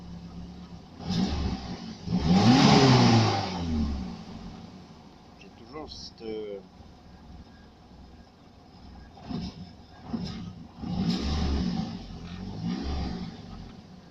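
A Fiat GT turbo engine fitted in a prototype X1/9 revs unevenly, rising and falling in several surges with a throttle fault, while someone talks over it.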